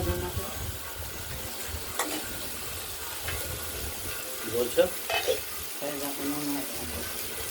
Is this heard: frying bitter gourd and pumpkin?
yes